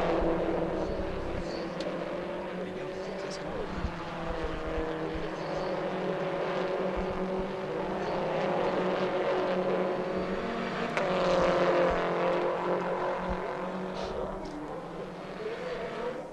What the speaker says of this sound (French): Xavier Guyonnet ici en bataille avec Antoine Ferré